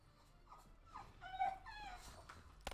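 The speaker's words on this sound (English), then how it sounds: "Sorry if you can hear my dog." A dog whimpers faintly in the background, a few high thin whines and yips rising and falling over a quiet room.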